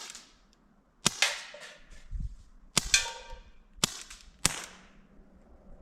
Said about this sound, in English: It is not the quietest air gun.